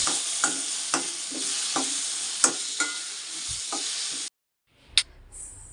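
Chopped tomato and dried chillies frying in a pan for radish chutney, a bright continuous sizzle punctuated by regular scraping stirs, close and loud, cutting off abruptly near the end before a brief return.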